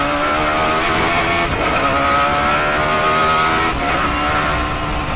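A race car accelerates hard in second gear on the Nürburgring, its engine a loud, continuous close-up roar that holds steady with slight pitch shifts throughout.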